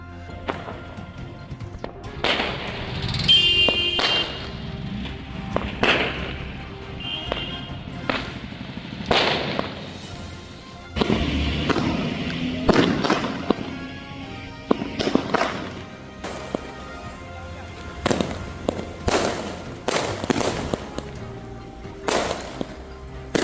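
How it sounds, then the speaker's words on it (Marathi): Firecrackers bang at irregular intervals in a street celebration of a cricket win, some sharp and close, others duller and farther off, over a faint background murmur. "क्रिकेटप्रेमींनी फटाके वाजून हा विजय मोठ्या उत्साहात साजरा केला"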